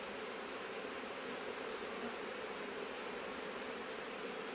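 Honey bees swarm around an opened hive while a beekeeper works the boxes, their steady dense buzz holding close and loud from start to end with no pauses.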